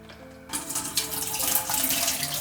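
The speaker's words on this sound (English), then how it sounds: "you can go ahead and gently just pour the water down the face" Water poured over a dog during a flea bath starts after a brief quiet moment and becomes a steady, close splashing rush that lasts to the end.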